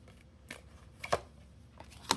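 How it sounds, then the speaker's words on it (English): A Kipper oracle card deck shuffled by hand up close, giving a few sharp, separate card snaps amid soft rustling and quiet pauses. "But I'm currently shuffling the Kipper at this moment."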